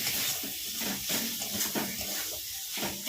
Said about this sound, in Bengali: এবার মশলাগুলোকে ভালোভাবে একটু কষে নিতে হবে